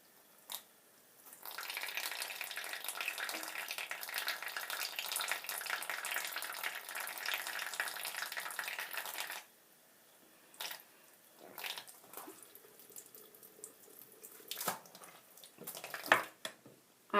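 Tap water runs steadily into a sink for about eight seconds while a mud mask is being washed off the face, then stops, leaving a few faint splashes and handling noises.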